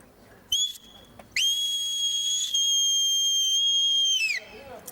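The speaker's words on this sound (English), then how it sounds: "we can then move her on to whistle signals using a whistle" A loud, steady two-tone sheepdog whistle signal, a brief blast followed by a long sustained call that bends down at the end, with faint background noise.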